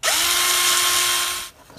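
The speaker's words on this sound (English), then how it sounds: "So we take an 8 millimeter drill bit like this one and we put it in here and we just carefully drill." A power drill with an 8 mm bit bores into the peg of a plastic toy figure, spinning up sharply into a steady, close whine that runs about a second and a half before cutting off.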